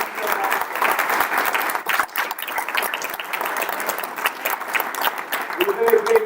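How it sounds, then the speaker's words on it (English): An audience at a school stage performance of A Christmas Carol claps in a sustained round of applause, close and busy, while people talk over it. "we just want to give one great round of applause for them"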